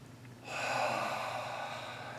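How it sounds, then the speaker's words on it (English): A person draws in a deep, audible breath during an actor's vocal warm-up. The inhale is close and airy and lasts a couple of seconds, with no speech. "I just like taking these breaths"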